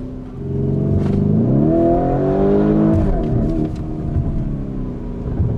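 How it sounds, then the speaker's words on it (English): A Lamborghini Urus SUV engine revs up and accelerates hard, its pitch rising into a loud, sustained roar that holds steady before easing slightly. "The car has just blistering acceleration, and it is just, the sound of it just screams Lamborghini."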